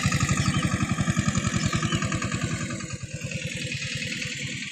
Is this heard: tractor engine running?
yes